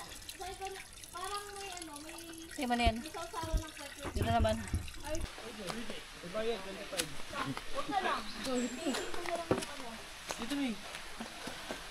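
Spring water trickles and splashes softly beneath people talking nearby at Buntot Palos Falls, Laguna, a faint continuous flow with occasional drips.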